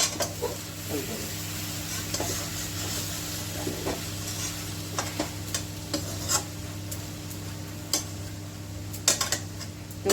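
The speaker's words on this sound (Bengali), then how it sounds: "এবার একটু নাড়িয়ে দেখি কেমন হয়েছে।" Spoon stirring small kachki fish curry in an uncovered pan, with soft sizzling underneath and a steady run of light scrapes and clinks against the pan, close and moderately quiet, with no talk.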